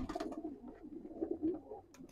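Golden Sialkoti pigeons offered for sale coo faintly in low, rolling throaty notes, a few soft overlapping phrases in a quiet setting.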